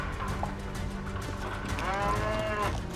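Cattle low in a sorting pen at a ranch cowboy competition. One long, drawn-out moo rises close by over the ambient pen noise, with other faint bovine sounds around it.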